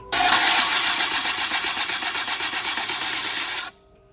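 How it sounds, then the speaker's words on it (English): A Diamond Core sanding disc running on a power tool during wet sanding gives a loud, steady whirring hiss close by, then stops abruptly near the end. "going to demonstrate wet sanding with the Diamond Core sanding disc"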